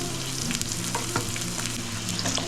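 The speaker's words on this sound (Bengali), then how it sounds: "এবার আমি ফার্স্টে আলুগুলোকে ভাজবো নুন হলুদ দিয়ে" Potatoes fry in hot oil with salt and turmeric, a loud, even sizzle with scattered crackles and a couple of stirring clatters, close and continuous without any talk.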